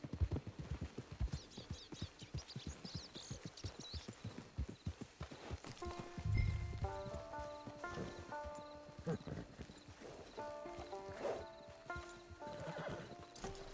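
A horse galloping in a video game, with fast rhythmic hoofbeats and a whinny, then quieter clopping beneath game music.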